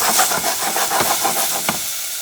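Garlic frying in a pan for a low-carb turkey leftovers dish, a steady close hiss and sizzle with a few brief crackling bursts as it is moved around.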